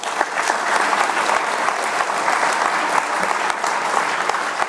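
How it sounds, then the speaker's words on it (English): Audience at an athletic awards ceremony applauding three honorees, a sustained, even roar of many hands clapping, close and full, with no break across the stretch. "So those 3 guys definitely deserve a round of applause."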